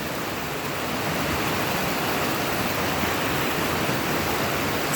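Water rushing among rocks in a natural setting, a steady broadband roar that stays loud and even throughout with no voices.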